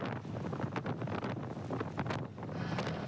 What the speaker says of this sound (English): Winds gusting over 50 miles an hour.